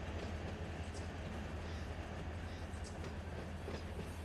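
Freight cars rolling in the Run 8 Train Sim game during a set-out move, a steady low rumble of wheels on rail with faint intermittent clicks, continuous and moderately loud throughout.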